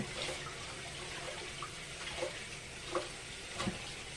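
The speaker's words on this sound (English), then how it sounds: "once again, I'm washing my hands" Hands being washed under a running kitchen tap during home baking, a steady hiss of flowing water with small splashes and drips throughout, close and fairly quiet with no talking.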